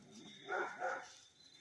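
Guard dogs at a sheep farm bark faintly in the distance, two or three muffled woofs in quick succession over quiet outdoor background.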